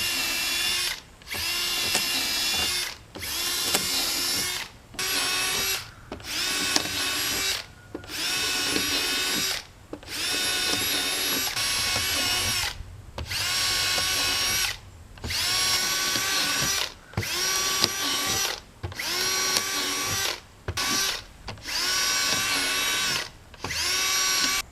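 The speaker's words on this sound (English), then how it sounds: "I'm just going to use a old 1/4 inch drill bit and make a bunch of little holes" A power drill with an old 1/4 inch bit bores drainage holes through the bottom of a raised garden bed, loud whining bursts of a second or two repeated over and over with brief pauses between, close up and without speech.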